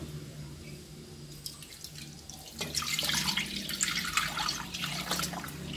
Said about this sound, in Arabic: غندير الماء